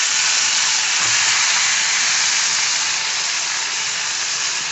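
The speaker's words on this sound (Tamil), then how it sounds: "ஜீரகம் கொஞ்சம் பொரிஞ்சு வரட்டும்" Cumin seeds sizzle and splutter in hot oil while a tomato and coriander leaf pachadi is being made, giving a steady, loud, close frying hiss that runs without a break.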